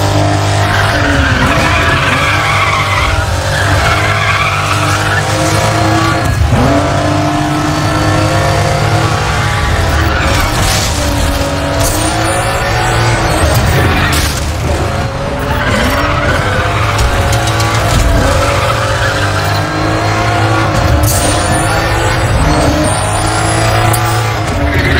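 An Aston Martin in the racing game Need for Speed The Run skids loudly with squealing tires and a revving engine, a continuous dense roar of game sound lasting throughout.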